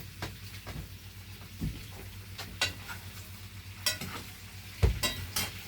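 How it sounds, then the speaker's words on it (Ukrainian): Pork fat crackles and sizzles softly in a pan as it renders, with occasional sharp pops and scraping stirs against the cookware. "зараз вижарюємо сольце"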